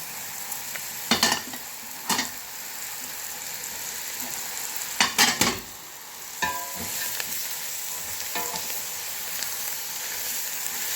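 Leeks sauté in a little oil in a pan for a fish and vermicelli soup. A soft continuous sizzle runs throughout, broken by several sharp scraping stirs of a utensil against the pan, with no talk.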